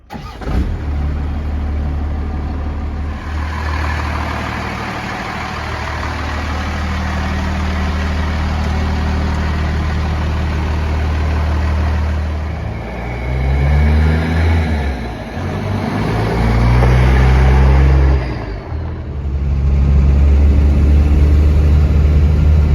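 A 2002 Cummins 24-valve diesel engine in a pickup truck cranks and fires, then settles into a deep, loud idle with several throttle blips and revs later on, heard close with no talking.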